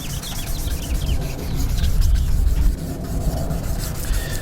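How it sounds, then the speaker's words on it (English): Steady wet rubbing of a gray sanding pad across a car headlight lens, a continuous close scrubbing that swells slightly in the middle, with no talking. "make this wet, use the gray pad, go over it for a couple minutes here, again same direction"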